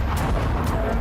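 Two short bursts of a distant explosion in Kyiv during the Russia-Ukraine war over a steady low rumble, with a sharp crack near the beginning and another toward the middle.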